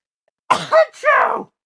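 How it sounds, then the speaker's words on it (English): A single close sneeze with a sharp burst followed by a groaning, voiced exhale, loud against silence. "One second, I'm about to sneeze."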